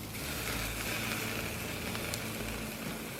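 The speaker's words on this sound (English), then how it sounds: "We'll just sear them up one at a time" New York strip steaks sear on a hot grill grate with a steady, close hiss and crackle that runs unbroken throughout, with no talking.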